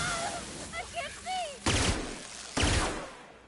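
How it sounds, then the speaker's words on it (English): Bugs firing at the player in The Outer Worlds: two sharp, loud bursts of shots about a second apart, following chirping creature calls and brief talk. "The bugs are shooting at me!"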